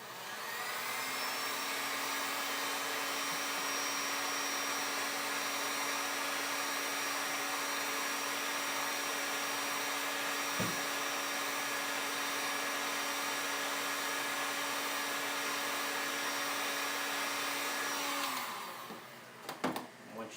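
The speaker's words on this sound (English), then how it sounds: "The easiest way that I found to do this is with a heat gun, and just apply the heat directly to the area that you want to bend." A heat gun blows steadily while heating a sheet of Kydex for bending into a holster, a continuous whirring hum at moderate level that runs unbroken for most of the time before switching off, followed by a few faint handling sounds.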